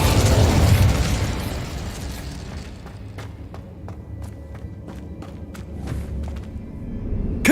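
A Confringo spell from the PC game Hogwarts Legacy bursts loudly up front with a broad explosive blast that fades into a low rumble, followed by scattered sharp pops and crackles.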